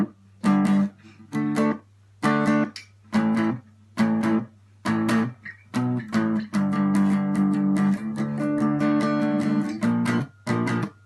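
Electric guitar plays the pre-chorus of a song, short choppy distorted chord stabs separated by silences, then a run of sustained strums and a few final hits, loud and close with no talking.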